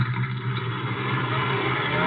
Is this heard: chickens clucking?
no